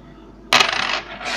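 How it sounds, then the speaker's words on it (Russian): A bimetallic coin drops and lands close by, a sharp bright clink followed by a short rattling ring as it settles, loud and alone over quiet room tone. "Так, прилетела одна монета недалеко."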